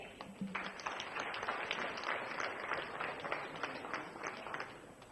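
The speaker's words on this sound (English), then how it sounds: "Let's have another round of applause once again." An audience at a lighting industry conference applauds, a steady burst of many hands clapping that carries on throughout, fairly faint and distant-sounding.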